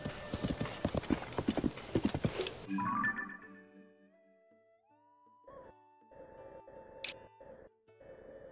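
A horse gallops in The Legend of Zelda: Tears of the Kingdom, with rapid rhythmic hoofbeats for about three seconds, then fading into soft game tones and a few chiming notes.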